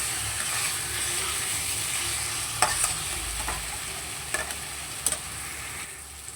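Spice masala stirred and fried in oil, with potato in the pan for a fish curry: a steady close sizzle with occasional scraping clicks from the spoon, no voices.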